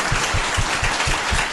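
A small group claps in a steady rhythm of muffled, thumping hand claps, close and moderately loud, with no voices.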